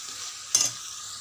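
A spoon stirs tomato and drumstick curry in a hot pan, giving one brief scrape over a steady, soft sizzle of frying close by.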